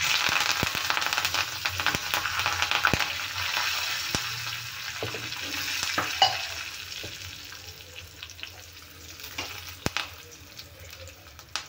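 Red chillies and curry leaves crackle in hot oil for a tempering, a loud, steady, close sizzle that runs without a break, with no voices.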